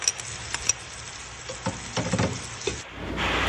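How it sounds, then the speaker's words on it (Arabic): Garlic fries with onions in a pot, giving a soft sizzle broken by several scraping, stirring clatters from a spoon, ending in a louder, steadier sizzle. "اقلب شوية الثوم لحد ما تبدا تطلع ريحة الثوم"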